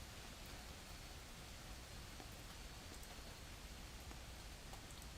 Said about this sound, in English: it's pouring right now, actually. Oh yeah, it's coming down.